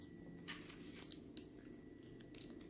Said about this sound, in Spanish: Vamos a apuntarlo, mira, ya que tenemos el boli aquí.